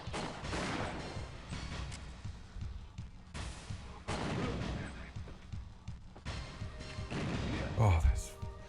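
Gunfire and grenade blasts in the WinBack shooter game, heavy booming bursts every few seconds with rattling shots between, and a sharp low thud near the end.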